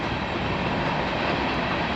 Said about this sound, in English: the train's coming by